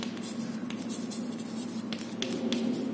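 Pen or marker scratching out an algebra equation by hand, short close strokes over a steady low room hum, with no talk.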